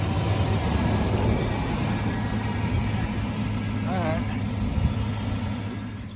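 A 2006 Dodge Charger engine idles after a radiator change, giving a steady low rumble close by, with a brief squeak partway through.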